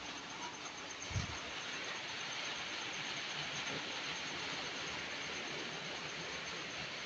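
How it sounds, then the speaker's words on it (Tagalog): Steady heavy rain from a typhoon pours down in a dense, continuous hiss, with a brief low thump early on and no voices. "Tuloy-tuloy pa rin ang ulan kasi may bagyo."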